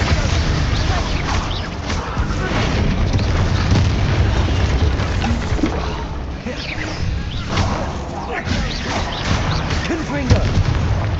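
Repeated Confringo explosive spell blasts boom through Hogwarts Legacy combat, layered with other spell effects and crashes in a dense, continuous, loud barrage.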